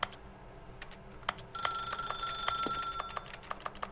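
A telephone rings in a video game, a bright electronic trill that starts partway through and repeats in quick pulses over soft background clicks.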